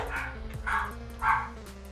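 Small dogs or puppies give two or three short, close barks and yips over a steady low hum from a game in the background.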